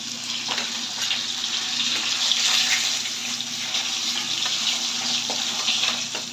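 Rohu fish pieces and head frying in hot oil, a loud continuous sizzle and crackle close up, with occasional faint scraping, no voices.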